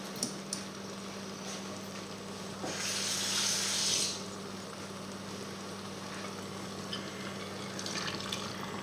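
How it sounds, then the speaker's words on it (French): Water runs from a tap into a pot of chicken blanquette with mushrooms, a soft steady pour swelling briefly louder over a faint background hum, with no voices. "Je vais juste rajouter un peu plus d'eau."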